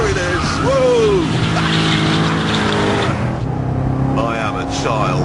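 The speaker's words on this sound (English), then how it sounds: "Already I've converted most of the rear tyres into smoke." A Chevrolet Corvette Z06 roars under hard throttle as its rear tyres spin and squeal into smoke, the engine loud and close with a rising tyre screech, and the driver talks over it.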